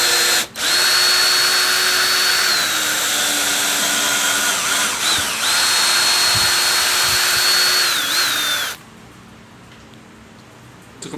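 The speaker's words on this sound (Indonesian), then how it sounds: "Bisa saja sih kita mengobor di ukuran torsi itu, tapi saya akan mencoba di yang fitur bor ini." Stanley 18V cordless hammer drill running in drill mode, a loud high steady whine held for several seconds, briefly dipping, then running again before cutting off into quiet.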